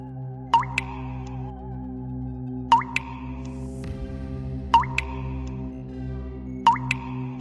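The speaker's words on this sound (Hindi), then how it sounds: "अचानक कमरे के अंदर पानी की बूंदें टपकने लगीं।" Water drops fall one at a time in a sound effect, four bright plinks spaced about two seconds apart over a low, droning eerie background.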